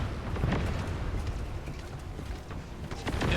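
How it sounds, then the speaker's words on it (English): A contagion explosion in The First Descendant rumbles as a dense, sustained roar of blast noise and debris, loud and continuous throughout with no talking. "Yeah, that's contagion. The explosion in the end."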